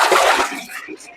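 Wheat grains being washed in water for homemade kurdai, a brief sloshing and splashing burst that fades into a few small drips, close up.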